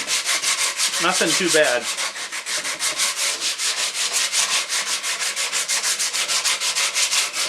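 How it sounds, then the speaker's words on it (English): Light hand sanding along the edge of a wooden patio chair, a steady rhythmic rub of abrasive on wood repeating in quick even strokes, close and clear; a brief voice speaks near the start. "Just a light sanding."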